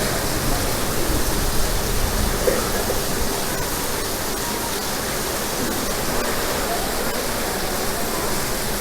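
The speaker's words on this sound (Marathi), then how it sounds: "बाहेर पाऊस आलाय" Rain falls steadily outside as a dense, even wash of hiss that holds at the same level throughout, with a faint voice underneath early on.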